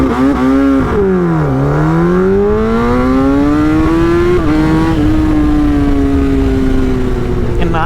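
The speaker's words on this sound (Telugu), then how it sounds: "ఫస్ట్ నవీన్ అన్న బైక్ రైడ్ చేస్తాను, లాంచ్ కంట్రోల్." A sport motorcycle, one of a group including a ZX-10R, GSA, Ninja 1000SX and Z1000, launched hard with launch control: a loud, close engine whose pitch climbs through several gear shifts, rising and settling over about eight seconds.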